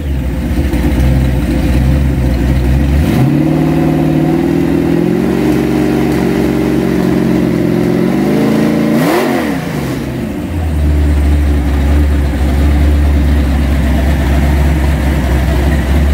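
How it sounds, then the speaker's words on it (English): A 350 Chevrolet roller cam V8 in a 1987 Chevy Silverado runs loud and close, idling, revving up and holding, dropping back, then settling into a steady idle. "Built you a beautiful 350 Chevrolet roller cam engine."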